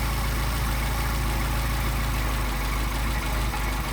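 A Solex moped's small engine idles steadily and close by while its carburetor is adjusted, a continuous throbbing hum with a low pulsing beat and no talk.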